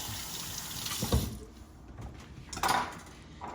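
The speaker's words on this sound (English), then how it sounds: "Now I'm gonna rinse my hands." Hands are rinsed under a running kitchen tap after cracking eggs, a soft continuous water flow with brief splashes and a light clink of dishes in the sink.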